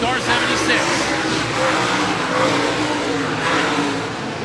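Dirt late model race cars roar together around a clay track in a dense, continuous wash of engine noise, steady and loud, with an announcer talking over the pack.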